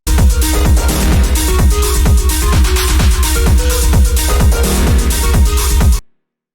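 A dense, loud techno synth texture pulses over a steady thumping beat, a notch filter swept by an LFO keeping the tone constantly shifting until it cuts off abruptly.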